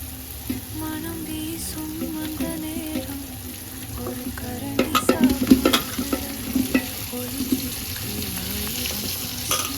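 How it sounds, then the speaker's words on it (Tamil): Tomatoes sautéing with coriander and mint in a pan for mutton biryani, a moderate sizzle with stirring scrapes and clustered clatter midway, plus some running water from a nearby tap. "கொத்தமல்லி புதினா நல்லா வதங்கி எடுத்து இப்போ தக்காளி போடணும்."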